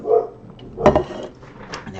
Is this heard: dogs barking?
yes